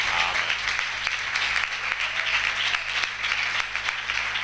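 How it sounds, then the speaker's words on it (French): A church congregation applauding loudly at a Monday worship service, dense sustained clapping throughout with faint voices mixed in. "Est-ce qu'on peut applaudir très fort pour la parole?"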